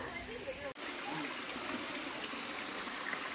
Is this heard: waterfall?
yes